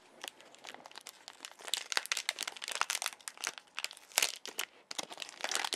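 Plastic resealable packaging for a Choro Q toy car crinkling and crackling in quick, irregular bursts as it is handled close by, fairly quiet.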